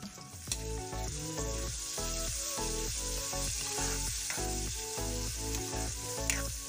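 Garlic and chili frying in a pan, a steady crackling sizzle with occasional stirring clinks, close and continuous with no voices.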